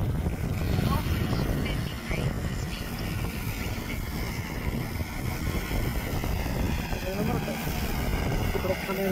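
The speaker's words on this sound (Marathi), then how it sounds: "आणि आता ड्रोन रिटर्न येत आहे." An Agrown-10X agricultural spraying drone flies back to land, its propellers giving a steady, continuous buzzing drone heard beneath someone talking.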